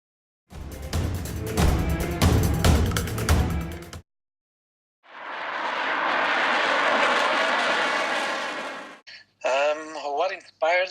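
An F-16 fighter jet roaring past in a loud sustained rush that swells and fades, set between separate stretches of other sound and someone talking at the end.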